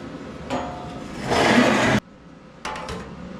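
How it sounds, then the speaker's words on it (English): Metal welding with a Vulcan OmniPro 220 welder from Harbor Freight, heard as a short buzz followed by a loud, steady crackling hiss for about half a second, then a cutoff and a second burst, close and alone. "Check it and then weld it."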